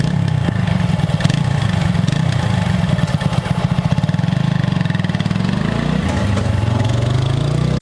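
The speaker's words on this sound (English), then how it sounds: "if you want to take a listen to the exhaust note" A TVS Apache RTR 160 4V motorcycle idles and revs through a stainless steel double-barrel exhaust, a deep, throaty, pulsing note, steady and close, with a brief rise in pitch near the end.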